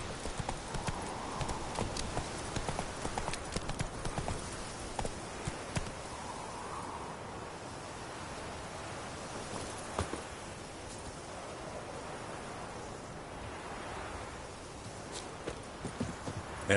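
Horse hooves from The Witcher 3's mount Roach beat in a steady clip-clop gallop over ground, close and continuous with faint rustling, no talking.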